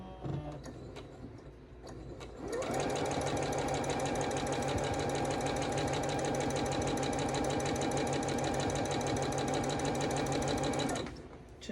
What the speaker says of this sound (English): So flip right sides together and sew at a scant 1/4 of an inch.